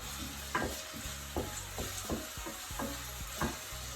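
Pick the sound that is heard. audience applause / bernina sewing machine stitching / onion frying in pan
onion frying in pan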